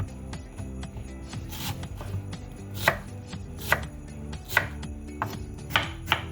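A knife chops onions on a board in spaced, fairly loud strokes, several distinct cuts standing out above a steady hum of background noise, with no one speaking.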